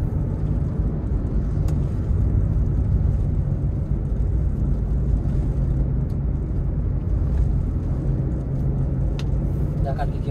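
A car interior on a holiday homecoming drive carries a steady low engine and road rumble while the driver accelerates and shifts gears smoothly, with faint clicks above the drone.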